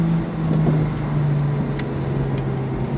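A Porsche 911 Turbo engine pulls on throttle, a loud steady low drone with a sustained hum, heard from inside the car.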